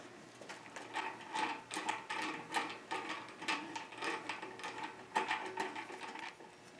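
Phillips screwdriver fastening the wiring on a water distiller's replacement heating element, a steady run of close, quiet ratcheting clicks and small metallic turning sounds with no talk.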